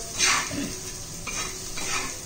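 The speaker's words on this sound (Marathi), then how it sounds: "लसूण, धने सगळे चांगले परतून निघतात" Garlic, coriander seeds and red chili powder roast in a pan for a coriander chutney, giving a soft, steady sizzle with bursts of stirring scrapes across the pan, close and moderately quiet, with no voices.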